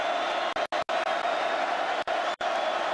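Steady roar of a stadium crowd at a 2010 college football game between Utah and Notre Dame, a dense continuous wash of noise broken by a few brief dropouts.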